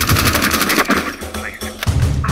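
Gunfire in Rainbow Six Siege, a loud close volley of rapid shots followed by a few separate heavy reports amid game noise.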